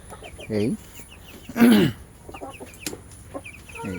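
Chickens around two months old on a poultry farm, giving two loud, close clucking calls and several quieter clucks against low background noise.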